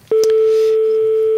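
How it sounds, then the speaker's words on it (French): A telephone number being dialed with DTMF tones: a quick series of short beeps, then one steady tone holding loud and clear to the end, with no talking. "Alors, notre ami Sergueï va composer le numéro de téléphone."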